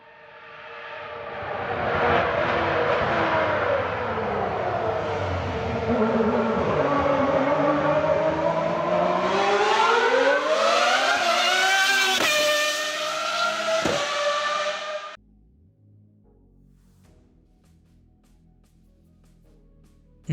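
A Formula 1 naturally aspirated V12 racing engine revving loud and close, its high wail climbing in pitch through the revs before cutting off abruptly to near silence.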